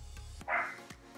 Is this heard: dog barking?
yes